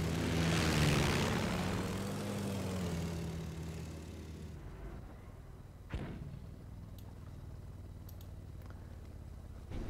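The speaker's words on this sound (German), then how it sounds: "Flugzeug." Aircraft passing overhead in the World War II strategy game Company of Heroes, a loud broad engine roar that fades over several seconds, with a sharp thud near the middle.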